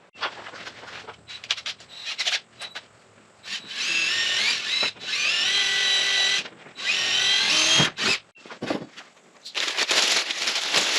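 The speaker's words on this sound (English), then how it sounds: "All right, let's drill that hole." A power drill bores a hole through a shop wall for furnace hookups, running in several sustained whining bursts with short pauses and clicks between them, loud and close.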